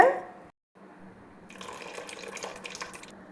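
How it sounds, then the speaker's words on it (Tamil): After a brief voice and a pause, tamarind water is poured into a pot of fish curry with a soft, trickling splash, faint and close. "புளி தண்ணி சேர்க்கலாங்க"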